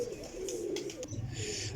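A pigeon coos softly and repeatedly, its low throaty calls rising near the end. Faint chirps and other bird noise sit in the background, with no clear talk.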